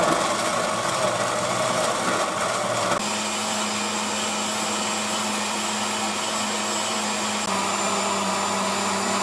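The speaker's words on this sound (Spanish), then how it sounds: "Ahora lo tapamos y le empezamos a batir." A blender runs steadily, whirring through cherry and watermelon gazpacho; its loud motor drone holds throughout with a shift in pitch about a third of the way in, and no voices are heard.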